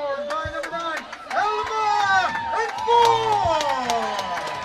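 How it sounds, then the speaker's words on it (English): Hometown crowd at an Asheville City Soccer Club match against the Atlanta Silverbacks roaring after a goal, a loud sustained cheer with whistles and shouts, mixed with a voice talking close by. "And that's beautiful stuff by the hometown crowd, and the fans are eating it up here today."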